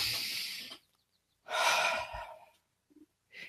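Slow, deep breaths during a guided breathing exercise: a long exhale, a pause, then a fuller inhale-exhale, closing with a short catch of breath and the start of another, close and quiet with no speech.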